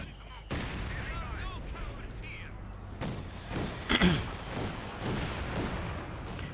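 Cannon and machine-gun fire from a T-70 light tank in the Company of Heroes 2 strategy game, heard as repeated sharp blasts and a heavy thud over dense battle noise, with a voice commentating throughout.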